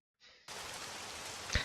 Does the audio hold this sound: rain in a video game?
yes